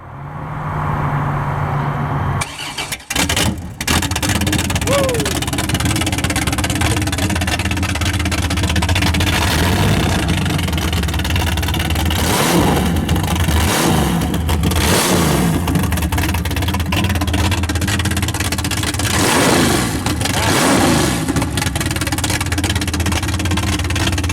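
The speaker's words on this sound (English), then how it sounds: "Now I'm going to have him fired up, and we're going to share how it sounds" A 1950 GMC hot rod with an inline six engine runs and revs, a steady rumbling idle broken by several sharp throttle blips that rise and fall, close and loud with no voices.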